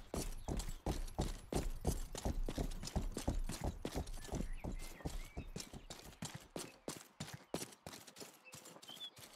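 Rapid, steady clip-clop of horse hooves in the video game Rustler, loud and close, with a brief whinny partway through; the trotting rhythm slows slightly toward the end.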